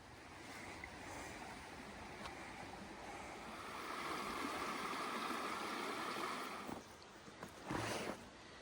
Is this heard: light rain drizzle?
yes